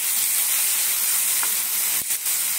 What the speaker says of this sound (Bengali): এখানে হালকা পেঁয়াজ আর টমেটোর সঙ্গে ভাজা হয়ে যাবে